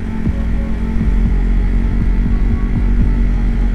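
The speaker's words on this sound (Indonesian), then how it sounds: "Ini ada truk Mas Bro." A giant truck's engine rumbles with a steady low throb and faint rhythmic knocking, heard up close along a roadside in Bojonegoro, Indonesia.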